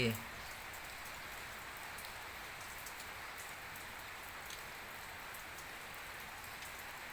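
Rain falls steadily and evenly, a dense soft hiss with occasional faint drips, no voices.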